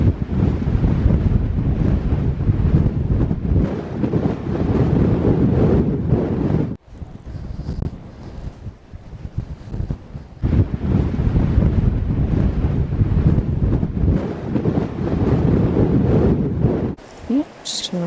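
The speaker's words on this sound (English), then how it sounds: "Wow, this is quite some wind." Strong gusty wind sweeps a pier on the Irish coast near the Blasket Centre, pounding the microphone with loud roaring buffets. There is a brief lull before the gusts return, and a person speaks now and then beneath it.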